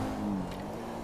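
A car engine in GTA 5 revs hard as nitro boost kicks in, a steady, moderately loud motor drone with a brief rising tone before settling into a sustained roar.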